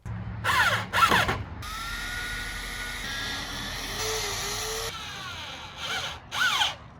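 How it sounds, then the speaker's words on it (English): A power drill drives screws through wooden deck boards into the four original cross beams of a van, with a steady whirring run broken by short bursts of higher revving at the start and end, close by. "I just ended up screwing them down into the 4 original cross beams"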